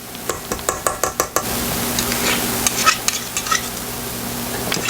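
Cheesecake batter with sour cream and vanilla is mixed in a bowl, starting with a quick run of sharp taps and clicks, then settling into a continuous wet whirring churn.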